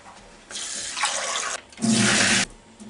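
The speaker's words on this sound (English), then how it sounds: "I'm going to put 1/3 of a cup of rice in this little pot here and rinse it." Tap water runs into a small pot to rinse a third of a cup of rice, in two short, splashy bursts separated by a brief pause.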